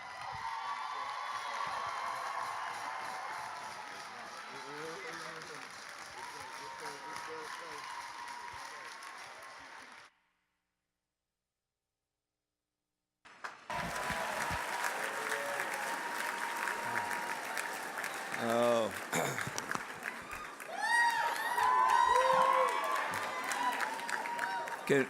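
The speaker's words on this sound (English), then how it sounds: "Can we just get another round of applause for that song, though?" An audience at a dinner applauds a song in two long rounds of steady clapping with some cheering, split by a few seconds of silence, and voices are heard amid the second round.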